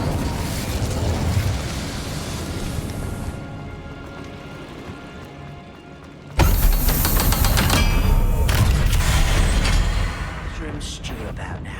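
A fire spell cast in the Hogwarts Legacy video game bursts in as a sudden loud whoosh and roar that holds for several seconds over a dense background of game music and effects.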